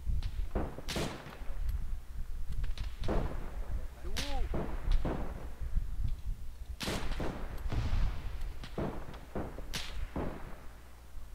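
Sharp, cracking bursts of WW1-era machine gun fire in an Arma 3 battle at the frontiers, separate shots and short volleys spread across the span, some near and loud, others more distant.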